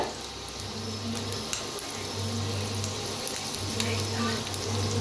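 Eggs frying in oil in a pan for a spicy restaurant-style egg curry, giving a steady soft sizzle with faint crackles throughout, fairly quiet and close, with no talk over it.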